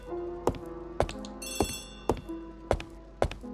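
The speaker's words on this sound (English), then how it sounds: "So the phone is ringing." A telephone rings in sharp repeated bursts, about six evenly spaced strikes over a few seconds, set over a steady low background hum and faint tones, heard alone with no voices.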